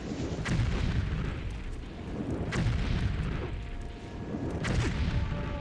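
Fireball spell explosions in Morrowind, three deep booming blasts spaced about two seconds apart, each with a broad roaring rumble that swells and fades, heard loud and alone with no talk.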